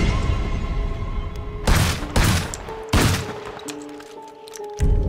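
Gunfire and explosions in GTA V: a steady rumble is broken by several loud, sharp blasts, three close together and another at the end, with fainter pops and tonal game sounds scattered between.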